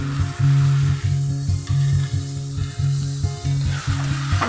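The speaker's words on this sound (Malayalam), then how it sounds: "ഒരല്പം വിനാഗിരി ഒഴിച്ചു കൊടുക്കാം" Vinegar hits a hot pan of fried soya chunks for pickle, bringing a close sizzle over a low, rhythmic rumble and several soft scraping strokes of mixing, with no talk.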